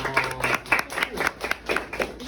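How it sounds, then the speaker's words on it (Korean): A small group of people clapping in a rhythmic series of sharp hand claps lasting about two seconds, close and moderately loud, with faint talk underneath. "와, 박수요."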